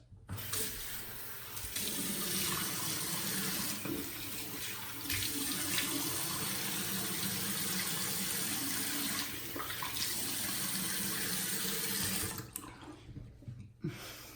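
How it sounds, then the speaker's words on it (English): A bathroom sink tap runs steadily at close range for about twelve seconds as someone rinses off after a wet shave, the flow changing slightly as hands move through it, then shuts off. "Let's kind of rinse off and check for residual slickness."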